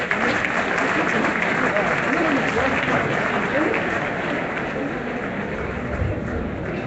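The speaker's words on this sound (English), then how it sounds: "It seems the round of applause was very weak" Applause from guests at a political party dinner in Toronto, a continuous, fairly subdued patter of clapping with voices mixed in, steady throughout before tapering slightly.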